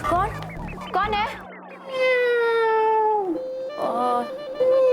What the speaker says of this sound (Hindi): और ये बिल्लियाँ भी ना परेशान करके रखे हैं।